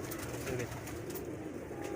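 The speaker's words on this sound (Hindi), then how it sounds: "ये आम कबूतर नहीं है" A pair of pigeons coo close by in a loft or yard, soft low throaty cooing notes repeating over a steady background.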